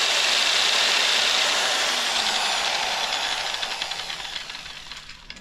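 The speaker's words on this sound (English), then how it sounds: "This is the Harbor Freight stripper paint surfacer tool thing. It's got adjustable speed on it." Harbor Freight paint stripper surface conditioning tool with a 40 grit, four-inch-wide drum, loud whirring and grinding up close while working the back panel of a 1941 Chevy truck, then winding down over the last seconds.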